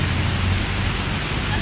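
Heavy rain pours down across a town square in a loud, even hiss of water striking the pavement and nearby surfaces, steady and dense throughout with no break.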